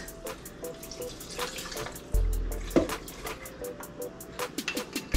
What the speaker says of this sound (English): I'm gonna just pour that over the cubes.